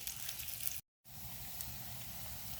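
Onions frying in oil with cardamom, cinnamon, bay leaf and cloves give a steady, soft hissing sizzle, briefly cut to silence for a moment before the quiet crackle resumes.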